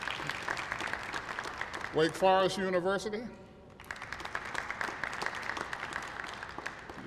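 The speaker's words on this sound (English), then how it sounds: "You ought to get into this routine of applauding now." Audience applause at a theatre festival kickoff, steady crowd clapping that pauses while someone speaks over a microphone, then resumes as a sustained wave of clapping.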